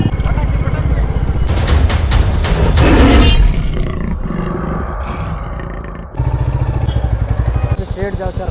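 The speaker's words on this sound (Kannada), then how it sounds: "Beautiful royal Enfield." A Royal Enfield motorcycle revs loudly and close at India Bike Week in Goa, its throaty engine roar swelling for several seconds, dipping, then pulsing again with rapid beats, with voices mixed in.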